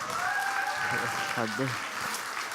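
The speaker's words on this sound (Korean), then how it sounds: "다시 한번 큰 박수 부탁드리겠습니다" Applause from an audience at a Korean volunteer Ignite talk event holds as a steady, moderately loud wash while a speaker's voice carries over it.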